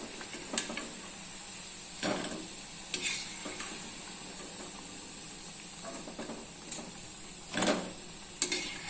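Potato and semolina bondas deep frying in hot oil, a steady bubbling sizzle with occasional louder crackles and bursts, close and without any voices.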